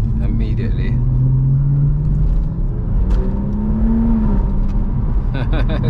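A heavily modified 460bhp BMW M140i heard from inside the cabin while driving, its engine a deep, continuous rumble with a rising pitch as it pulls, while people talk over it.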